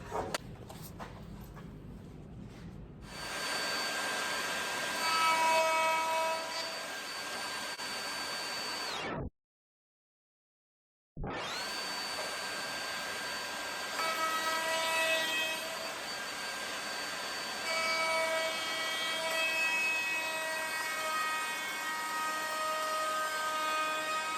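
A spindle moulder cutter shaping an ovolo moulding on timber for a door's bottom sections whines loudly and steadily as a high machine drone, broken by a brief cut-out before running on.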